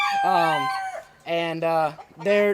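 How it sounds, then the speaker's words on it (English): A Brahma rooster in a rooster pen crows loudly and close by. Two or three strained crowing calls are broken by short pauses, with no talk over them. "over here is the rooster pen of these Brahmas"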